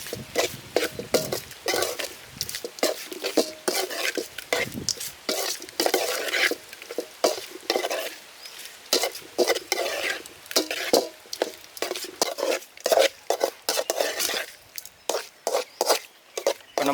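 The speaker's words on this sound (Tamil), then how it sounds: "சேர்த்து நல்லா கலந்து விடுங்க." Goat liver with chilli powder and cumin powder is stirred in a sizzling pan, a spoon scraping and clattering against the metal in rapid, irregular strokes over a constant fry, close up.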